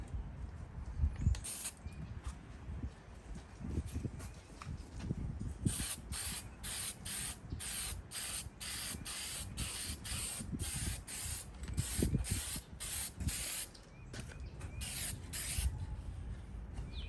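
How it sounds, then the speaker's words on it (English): Aerosol spray paint hisses in repeated short bursts as the sail panels of a 1999 Cadillac Escalade are coated outdoors, with gusty wind rumbling low underneath. "I'm spray painting so the wind has to pick up."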